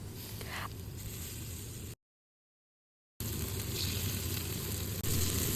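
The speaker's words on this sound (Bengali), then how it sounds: "তেলটা গরম হলে এর মধ্যে স্টিকগুলো দিয়ে দিচ্ছি" Chicken shashlik sticks shallow-fry in a little hot oil over medium heat, giving a steady, close hiss of sizzling that cuts out completely for about a second before resuming.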